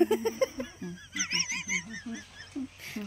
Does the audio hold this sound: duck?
yes